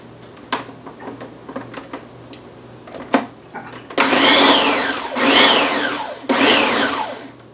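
A blender pulses chipotle salsa in three loud bursts of whirring, each rising and falling for about a second, after a run of lighter knocks and clatter from setting the lid in place.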